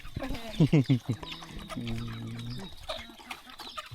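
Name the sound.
chickens clucking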